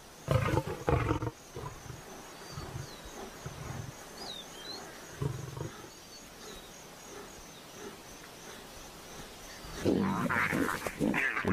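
A lioness roars and snarls in rage in the African wild, loud close bursts at the start, midway and near the end, with growling and faint insect buzz in the quieter gaps.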